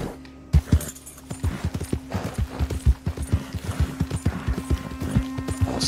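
A horse walks in Red Dead Redemption II, hooves clopping in a steady rhythm of sharp, close, loud thuds that continue throughout the stretch.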